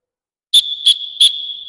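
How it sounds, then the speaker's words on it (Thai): A teacher's whistle during a physical education class for visually impaired children, three short shrill blasts in quick succession over a sustained tone, loud and close with no talk. "ครูจะให้สัญญาณนกหวีดนะครับ"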